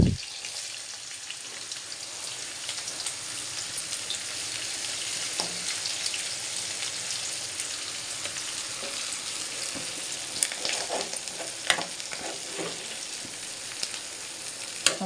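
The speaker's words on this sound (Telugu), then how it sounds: "1 by 1 వేసేసుకొని ఫ్రై చేసేసుకుంటున్నాను." Tempering seeds fry in a pan of hot oil for stuffed brinjal curry, a steady, close sizzle that carries unbroken for about fifteen seconds, with a few sharper pops and crackles near the end.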